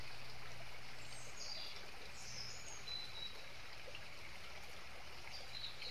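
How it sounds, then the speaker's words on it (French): A river stream flows in a steady, soft, even wash of running water with faint high chirps above it, calm and unbroken throughout with no talking. "Écoutez ce ruisseau."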